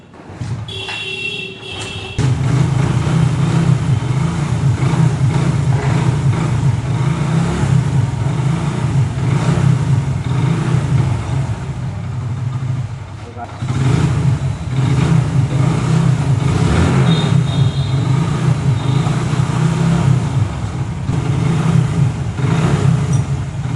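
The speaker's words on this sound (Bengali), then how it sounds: "তো আমি এখন গাড়ি স্টার্ট করব।" A Hero Super Splendor motorcycle with a rebuilt block and piston starts, then settles into a steady, close mid-pitched engine drone with revs that dip briefly and rise again, with no talking.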